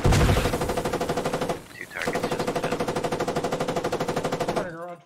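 A machine gun fires in the video game Squad, a loud, rapid sustained burst of shots that briefly pauses midway, then resumes before cutting off.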